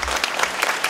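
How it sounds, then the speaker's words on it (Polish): Dense applause from an audience at a charity concert, a brief steady burst of many hands clapping together nearby. "Wielkie brawa!"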